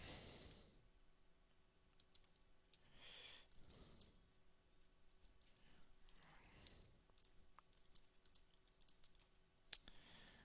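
Typing on a computer keyboard, close and quiet, with irregular bursts of key clicks and short pauses, heard alone without talk.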